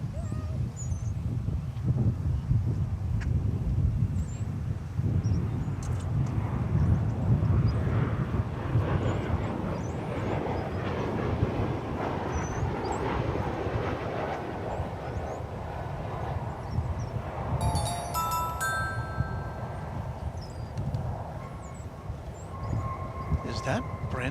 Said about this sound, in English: Here comes the flight from Mexico City.